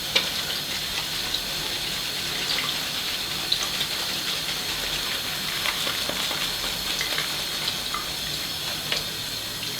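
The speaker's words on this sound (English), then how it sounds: "Add a bit of water to this." Water is poured and swirled into a bowl of shaving soap while lathering, giving a steady close trickling, splashing wash with small clicks throughout, no voices.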